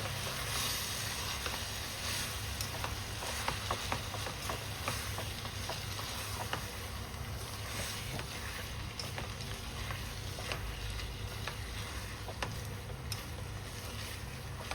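Tibetan dry keema being stir-fried with dark and light soy sauce, a constant loud sizzle with scraping stirs and small pops throughout, no voices.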